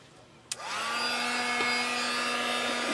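A heat embossing tool clicks on and blows hot air, spinning up to a steady, whirring hiss that stays close and even to the end, with no one talking.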